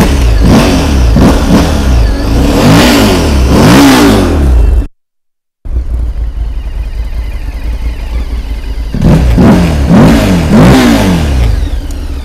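A 2025 Morbidelli T1002VX touring motorcycle engine revs loudly and close, with rising and falling throttle sweeps, a brief cut to silence, then a steady idle before more revving.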